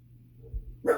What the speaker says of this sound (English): Just because the dog outside is barking don't mean you need to bark.